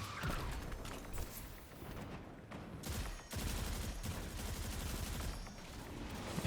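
Rapid bursts of video game gunfire from Destiny, dense fusillade-like volleys repeating over several seconds with brief lulls, loud and close, with no talk.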